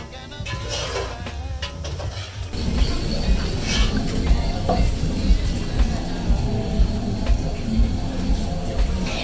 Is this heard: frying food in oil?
yes